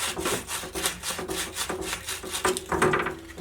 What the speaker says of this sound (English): you can just go in here with a piece of sandpaper or a file and round them over